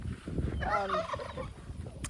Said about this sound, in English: these turkeys are looking better. They are happy. They're making more noise.